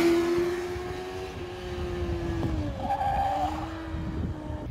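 The rear tyre of a 2020 Kawasaki ZX6R 636 motorcycle squeals as it skids under hard braking, a loud sustained screech over steady road and engine noise, with no talking.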